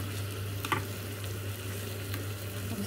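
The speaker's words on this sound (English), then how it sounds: "You just cook them a little bit of butter and then we'll give them a taste" Hedgehog mushrooms fry in butter in a pan, giving a soft continuous sizzle with a few light stirring scrapes, close and steady with no voices.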